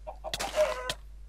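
Chickens clucking in the Minecraft video game, a couple of short, clear, close clucks with a brief squawk between them, standing alone without talk.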